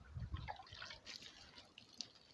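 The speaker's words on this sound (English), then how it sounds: "Now it's watering. You can see my improvised watering can." Water poured from an improvised watering can onto seedling soil, a soft, faint trickle and splash with a few brief drips, close by and without speech.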